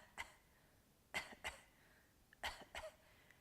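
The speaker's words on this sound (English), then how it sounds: "try doing a fake cough" Five short, deliberate fake coughs made during a core exercise, spaced irregularly, close and fairly quiet in an otherwise still room.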